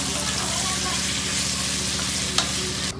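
Chopped onions frying in a pan while a spoon stirs them, a constant loud sizzle with rhythmic scraping strokes for veg pulao, no talking.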